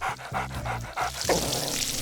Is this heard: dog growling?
yes